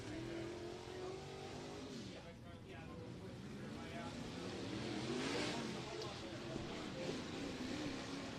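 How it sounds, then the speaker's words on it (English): Race car engine at the number 257 machine throttling up during LCS qualifying, a rising, revving roar that builds and swells over several seconds, heard from a distance with an announcer talking over it. "Skylar Marlar is going to be getting that car all throttled up in that number 257 machine"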